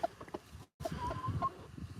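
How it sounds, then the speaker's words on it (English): A brown leghorn rooster clucks in short, soft bursts close by outdoors, with a brief silent gap partway through and a faint low background behind the calls. "He's a brown leghorn rooster"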